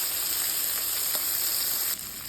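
Shrimp fry in a pan with a steady, close sizzle that holds evenly throughout, dipping slightly near the end as pieces are turned.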